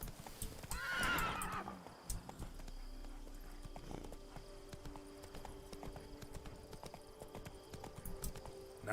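A horse galloping in the video game The Witcher 3: Blood and Wine, opening with a loud neigh, then rhythmic clip-clop hoofbeats continuing under game ambience and music.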